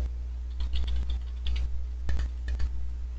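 Quick bursts of keystrokes on a computer keyboard as a new password goes in, light plastic clicks in short irregular clusters against a steady low hum.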